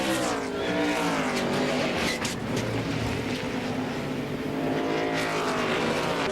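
NASCAR stock cars roar through a corner in a crash-marred race as one car spins in the middle of the turn; a dense, loud, continuous engine blare with shifting pitch and no voices.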